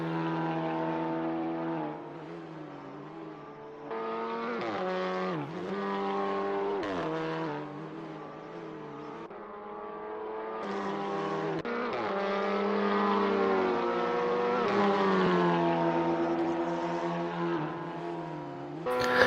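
Touring race cars from a simulated 2019 WTCR round in Germany roar through the final corners, engines rising and falling with gear changes and braking, loud and continuous for nearly twenty seconds.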